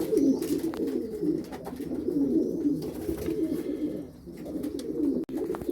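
A pet pigeon coos nearby in soft repeated low rolling calls that continue throughout, with no talking.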